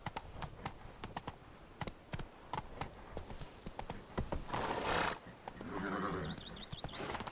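Roach, a horse in the video game The Witcher 3: Wild Hunt, galloping with rapid, steady hoofbeats close by, followed by a loud whinny near the end.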